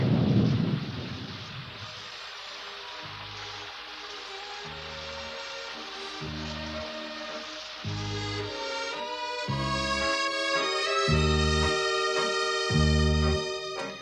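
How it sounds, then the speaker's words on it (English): A heavy thunder crash opens, then steady rain and rumbling storm noise carry on under rhythmic musical tones. "Hurry, let's get out of the rain."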